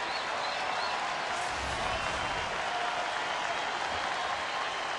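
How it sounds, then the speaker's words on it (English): Baseball stadium crowd in Detroit, Tigers fans rising to their feet and cheering with the home team up a run late in the game; a steady, broad wash of applause and roaring noise fills the whole stretch without letting up. "So the crowd to its feet now with the Tigers leading by a run"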